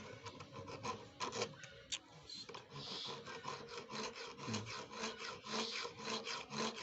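Hacksaw blade pushed back and forth through a steel rod inside a cement frame, giving steady rasping strokes in a close, repeated rhythm with no talk.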